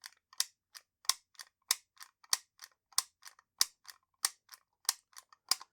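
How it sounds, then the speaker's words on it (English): Cutters chop down the spring on a button latch of a vintage 1980s G1 Transformers Blaster, giving a steady run of about twenty sharp, close metallic clicks and snips with no talking. "So I'm going to chop the spring down."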